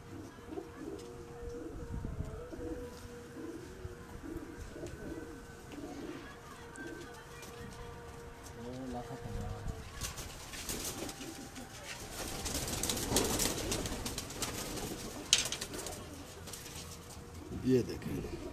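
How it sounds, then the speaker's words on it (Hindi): Pigeons coo on a rooftop in Gujranwala, a soft, steady murmur of calls close by with some wing flutters and background noise, and brief voices mixed in. "ये सात जजी वाला कबूतर है माशाल्लाह"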